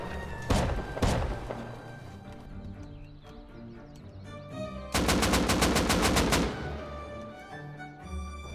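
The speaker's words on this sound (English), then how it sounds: "he would shoot the rockets and or the explosive ammo" Gunfire and explosive ammo during a raid in the survival game Rust: two sharp shots early, then a loud rapid burst of automatic fire lasting over a second, with rumbling impacts between.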